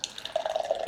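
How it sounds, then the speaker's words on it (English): Strong ale is poured from a full crowler into a glass, a soft, bubbly trickle of liquid heard close and fairly quiet over a short moment. "Okay, so let me pour this. Since it's a crowler, it's pretty full"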